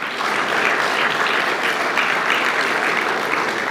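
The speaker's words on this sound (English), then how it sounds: "Clap for that." Loud, steady applause from a primary school graduation audience, dense clapping held evenly from start to finish with no voices standing out.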